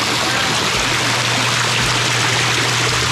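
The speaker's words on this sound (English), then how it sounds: "Looks like someone likes the bubbling rock feature." Water flowing over a bubbling rock fountain feature, a loud, close, continuous rush and gurgle with no pauses, filling the whole scene on its own.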